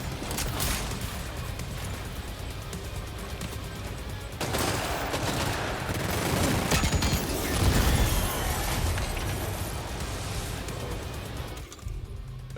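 A Rocket Box weapon in Death Stranding 2 lets loose a dense barrage of rockets, a sustained crackling volley of launches and blasts that swells midway and cuts off sharply near the end.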